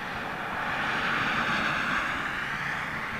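A Lufthansa Airbus A330 jet in new livery on runway 27L at London Heathrow, a steady broad engine roar held at even loudness from start to finish, heard at moderate distance with no speech.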